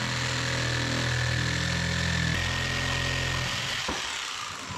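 A jigsaw cuts wood aboard a wooden boat during wheelhouse work, its close, loud buzzing motor shifting pitch partway through before winding down near the end.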